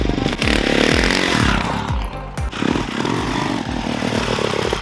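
A Kawasaki KX450 dirt bike engine roars close up on a test ride, revving repeatedly in sharp rising bursts with a brief dip between, loud and raspy throughout.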